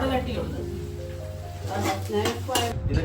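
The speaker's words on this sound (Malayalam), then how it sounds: "ഫ്രൈ ആണ് ഫ്രൈ ഇത്" Chicken for biryani sizzles and crackles in a pan under steady conversation from several people, the frying hiss continuing throughout alongside occasional stirring.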